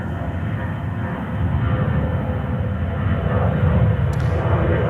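An Emirates Airbus A380 from Dubai rumbles at JFK Airport with a deep, loud jet roar that swells slightly partway through and holds steady to the end.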